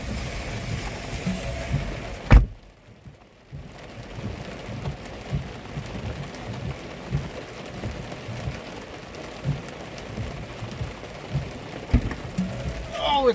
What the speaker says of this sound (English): Now the rain comes down too.